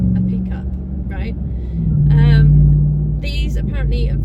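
A pickup truck's engine drones low and steady while driving, heard from inside the cab as a continuous rumble that swells briefly midway, under someone talking almost throughout.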